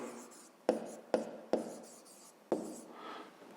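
A pen writes out a fifth-grade maths exercise on paper, giving four sharp taps as strokes begin, each trailing into soft scratching, close and quiet with no talk.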